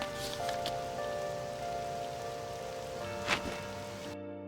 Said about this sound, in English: I like it how it's conveniently raining again